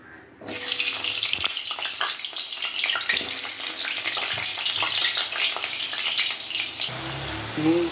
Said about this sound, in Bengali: এবার এটাতে আমি একটা একটা করে আলুগুলো ভেজে নেব।